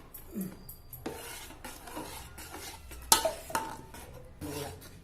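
A spoon stirs thick sugar syrup with cardamom powder in a pan for Sankranthi ariselu, giving a series of separate scraping strokes with sharp metallic clinks against the pan.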